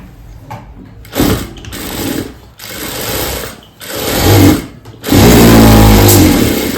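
Sewing machine stitching the seat slope of a trouser seam in several bursts that stop and start, loud and close, the last run longest and heaviest, with no talking.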